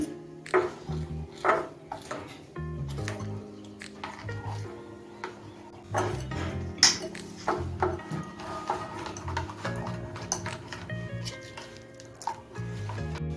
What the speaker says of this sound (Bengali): এখন এর থেকে আমি দু চামচ ব্যাটার নিয়ে কালারটা গুলে নিচ্ছি